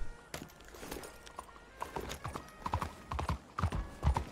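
Horse hooves clip-clop as the horse approaches in the video game Red Dead Redemption 2, with steady, quickening hoofbeats growing louder and closer and a brief whinny. No one speaks.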